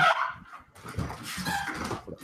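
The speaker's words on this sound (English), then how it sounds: "I think his dogs are acting up." Dogs barking and whimpering in a house, a run of short yips and whines of moderate loudness, fairly close, with brief gaps between bursts.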